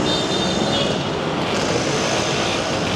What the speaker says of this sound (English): And bloody motorbikes are loud, aren't they?